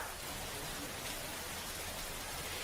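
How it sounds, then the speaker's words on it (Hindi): Heavy rain falls in Purvanchal, Uttar Pradesh, a dense, steady hiss of downpour that holds constant and loud throughout with no voices. "आज सुबह से पूर्वांचल के अलग अलग इलाकों में तेज बारिश हो रही है।"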